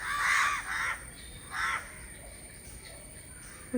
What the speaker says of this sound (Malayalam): കാക്കകൾ എന്തെങ്കിലും കരയണം